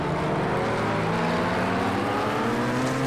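A 2013 Marek LMP2 prototype race car in the game Project Cars 2 drones loudly and continuously, its engine tone holding steady and rising slightly as it pulls on track, with no talk over it.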